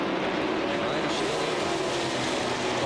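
NASCAR Cup race cars lapping the track at a 1997 race, heard as a steady, loud engine roar that drones on without a break, distant and even in level throughout.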